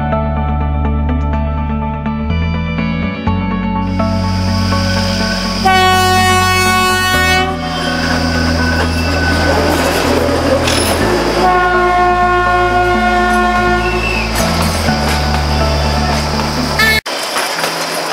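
A train on the Kalka-Shimla mountain railway rumbles along steadily and loudly, its horn sounding repeatedly in long tones over the continuous clatter of the cars, with no voices heard.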